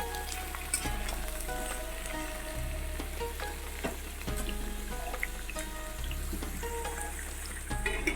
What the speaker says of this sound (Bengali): এই পর্যায়ে আমি কুমড়োগুলোও দিয়ে দেবো একসঙ্গে একটু হালকা করে ভেজে নেবো